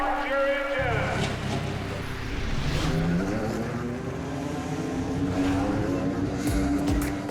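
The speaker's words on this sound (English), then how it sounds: "Gentlemen, start your engine." Race car engines fire up at Indianapolis Motor Speedway, a loud, sustained roar that swells in after a brief moment and holds as a thick, continuous drone of many engines.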